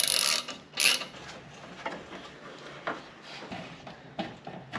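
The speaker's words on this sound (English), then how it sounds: "We've got 4 more bolts to remove, all 10mm." A ratchet wrench removes 10mm bolts from the grille of a 2022 Toyota Tundra, giving faint, close clicking ratchet sounds in a few short bursts with quiet pauses between them.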